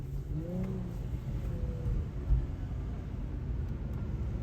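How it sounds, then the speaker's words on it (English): A turbocharged car, apparently a 500+ hp Striker, pulls up nearby downtown at night, its engine a steady low broadband rumble with a brief rising rev tone early and a short thump midway. "I hear them turbo pull up"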